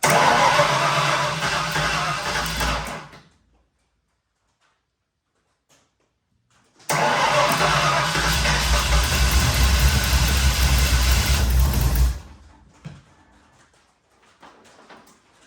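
A V8 engine swapped into a Ford Pinto catches and runs at a rough, loud idle for a few seconds, cuts out into silence, then fires again and idles steadily before dying once more.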